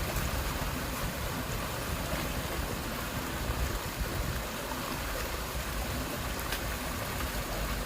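Strong floodwater rushes through a pineapple field after heavy rain, giving a continuous, steady churning roar at moderate level with no voices.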